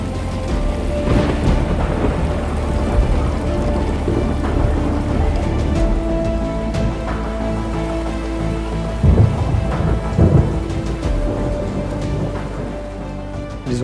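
Steady heavy rain pours down while thunder rumbles low and deep, with a couple of louder rolls partway through.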